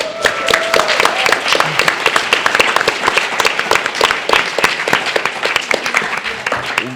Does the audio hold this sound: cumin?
no